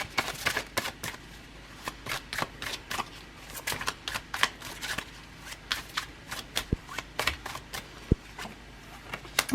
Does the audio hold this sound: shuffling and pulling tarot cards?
yes